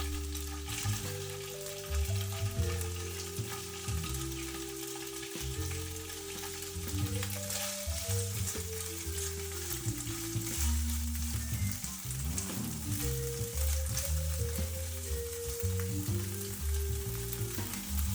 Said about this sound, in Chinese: 先放入火腿和洋葱，把火腿煎香，洋葱炒软。